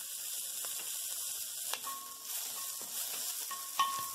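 Chili stir-fries in a wok that was just used to fry Chinese sausage, a soft continuous sizzle with a few light scrapes and clicks of the spatula, close but quiet, with no talk.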